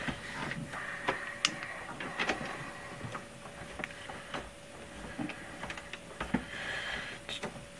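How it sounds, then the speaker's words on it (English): Screws being driven back into an Original Xbox console case, giving small scattered clicks and ticks of metal and plastic, close and fairly quiet, with no talking. "that's all I'm doing is just screwing this back in"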